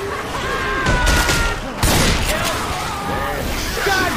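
Loud, close gunfire in Left 4 Dead 2, with heavy blasts and short bursts tumbling over one another while voices talk through the shooting.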